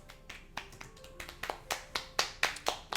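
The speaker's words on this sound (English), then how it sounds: "The four of us applaud." Sparse applause sound effect from the Doki Doki Literature Club game, a dozen crisp individual claps in a loose rhythm, growing slightly louder, with no talking.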